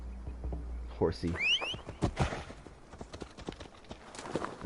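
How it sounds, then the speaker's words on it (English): A horse in Assassin's Creed Valhalla clip-clops along in a quick run of hoofbeats, with bird calls and game sounds around it and someone talking over it. "Horsey."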